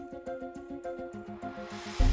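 A short orchestral film-score passage in the style of Transformers movie music, with steady repeated rhythmic chord hits pulsing at an even tempo and a louder swell arriving right at the end, no voices present.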